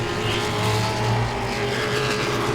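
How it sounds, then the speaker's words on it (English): Modified race cars at Langley Speedway roar past in a steady, loud engine drone, the pack's sound swelling and easing slightly as cars pass close by with no talk over it. "Here comes the leader now, Sean Beluzzo, closing in on that 38 machine"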